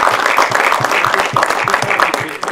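Audience at an anniversary celebration applauding steadily, a dense wash of clapping with a few sharper individual claps standing out, sustained and fairly loud with no pause.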